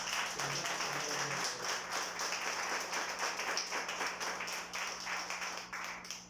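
An audience claps for a teacher at an anniversary commemoration, a fairly quiet but continuous patter of applause with a faint tonal hum beneath it.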